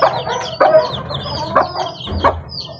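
Chickens and young chicks at a white hen's hatch cluck and peep close by in a busy, overlapping chorus, with a low grunt near the end and no talking.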